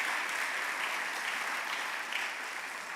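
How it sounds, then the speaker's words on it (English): Steady, dense applause from a Detroit Economic Club audience welcoming students, continuous and even throughout with no pauses or voices standing out. "please join me now in a round of applause as we welcome the students"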